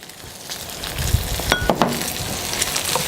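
Celery and a small onion fry in a pan with a steady sizzle, broken by a few clinks and scrapes as a utensil stirs them.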